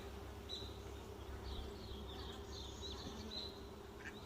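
Honeybees buzz around a hive in a steady, continuous drone, with faint higher chirps drifting above it and no talking.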